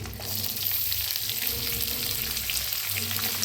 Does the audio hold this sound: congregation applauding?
no